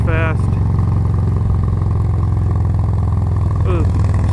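Harley-Davidson Low Rider motorcycle cruising through curves, its engine droning steadily and loud throughout with a low rumbling hum, while a voice speaks briefly near the start and again near the end.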